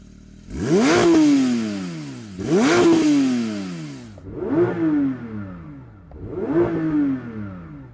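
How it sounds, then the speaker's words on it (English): A Porsche 911 GT3 flat-six revved hard while stationary, four loud close blips that each rise sharply and fall away, the last two a little softer, no talk. "it lets you rev it out while the car's stationary"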